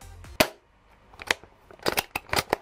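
An Ares Amoeba Striker AS02/AS03 airsoft sniper rifle fitted with a muffler fires a series of dull, sharp snaps. There are about half a dozen close shots, spaced irregularly, some quickly one after another.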